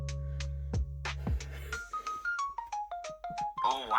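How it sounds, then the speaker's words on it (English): A phone notification chime sounds alone, a short run of bright melodic tones stepping through a sequence, preceded by a couple of low thumps and clicks. "Sorry, that was a notification."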